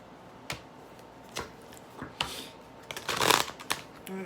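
Spirit Animal Oracle cards shuffled by hand during a reading, a few soft riffling bursts and taps spread out, with a longer, louder flurry near the end, close and alone without talk.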